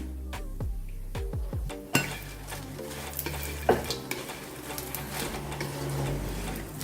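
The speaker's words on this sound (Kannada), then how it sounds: "ಸ್ವಲ್ಪ ಎಣ್ಣೆ ಹಾಕಿ ಹೀಗೆ ನಿಧಾನಕ್ಕೆ ಹುರಿಬೇಕಷ್ಟೇ ಇದನ್ನು." Dried coconut and tamarind slowly roasting in a little oil, with steady soft sizzling and repeated stirring scrapes and clinks of a utensil against the pan, close and moderately loud, no talking.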